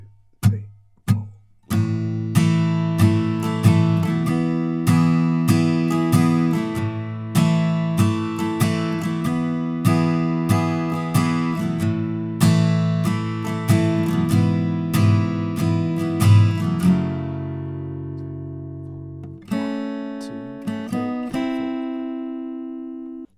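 Solo acoustic guitar plays the full intro of a song: a few plucked notes first, then steady rhythmic strummed chords that ease into longer ringing chords at the close, with no voices.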